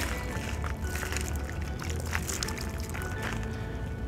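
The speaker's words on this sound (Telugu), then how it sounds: "నీళ్ళు పోసేసుకోవాలి." Water is poured onto a freshly transplanted green chilli seedling, a steady, close splashing and sloshing stream that runs the whole time with no talk over it.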